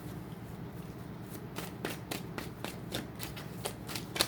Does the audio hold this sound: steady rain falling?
no